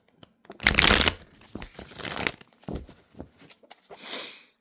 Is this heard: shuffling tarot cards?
yes